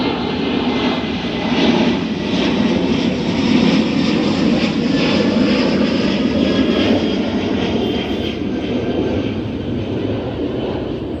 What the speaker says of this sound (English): I apologize, this plane is going by.